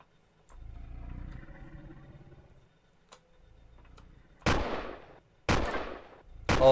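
Video-game gunfire aimed at the player inside a missile base: a few sharp cracking shots, each with a brief ringing tail, arrive near the end after quieter rattling and clicking sounds.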